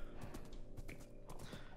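Horse hooves gallop in Minecraft, a steady run of soft game clip-clops with a faint whinny, played alone with no talk over them.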